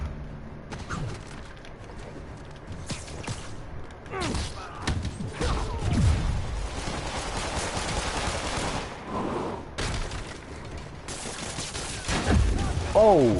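Gunfire during a cop ambush in the game Shadow of War, dense rapid bursts and thudding impacts that keep up loudly throughout, with a player's brief exclamation over the shooting.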